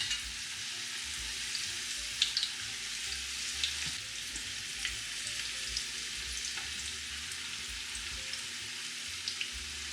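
Spoonfuls of vegetable batter deep frying in hot oil for an Italian fried snack, giving a steady, close sizzle with scattered crackles and small pops throughout and no voices.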